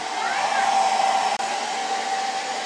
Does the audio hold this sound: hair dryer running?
yes